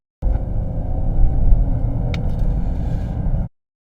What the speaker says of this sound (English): 3-cylinder petrol engine.